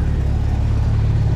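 Car engine idling with a steady low rumble after sitting unused for a month, close and loud, with no voices.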